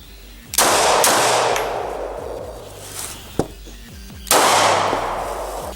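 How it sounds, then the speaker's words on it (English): A Glock pistol fires through a piece of chewing gum: two sharp, loud shots with ringing decay, a small click between them, and a final loud crack near the end. "let's shoot through this piece of gum"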